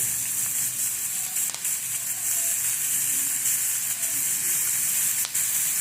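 Capsicum and carrot sautéing with browned onion in a pan, a steady close sizzle and hiss that runs throughout, with a few faint clicks of stirring.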